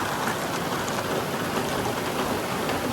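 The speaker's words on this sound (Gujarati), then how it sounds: "જેવા અમે જવા તૈયાર થયા ને એવું તો વરસાદ ચાલુ થઈ ગયો" Heavy monsoon rain pours down in a steady, dense hiss with no break, loud and close, with no voices heard.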